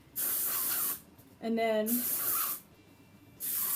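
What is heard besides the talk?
Amika texture spray being sprayed onto hair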